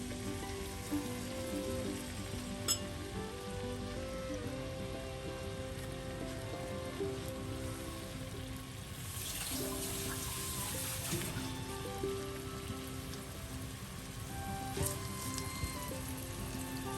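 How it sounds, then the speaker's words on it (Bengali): One cup of chopped onion frying in half a cup of hot oil in a frying pan gives a steady, even hiss of sizzling, like rain on a surface, that runs continuously and at moderate loudness with no voices. "এখন পেঁয়াজটাকে আমি হালকা ভেজে নিব।"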